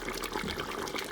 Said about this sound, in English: so I'm gonna add just a little more water